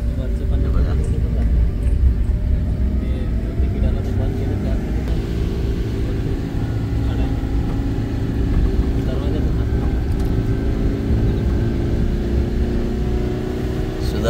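A car engine drones steadily while climbing the Raigad ghat road toward Raigad fort, a low continuous rumble with gear-changing shifts in pitch, close and sustained throughout.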